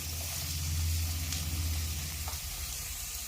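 Finely chopped shallots and two onions dropped into hot oil for a Kerala-style mutton curry, a loud close steady sizzle and hiss, with no talk.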